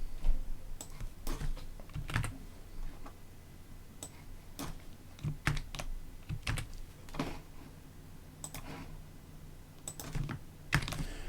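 Computer keyboard typing, a steady run of light clicks in uneven bursts, near and fairly quiet with short pauses, no talking.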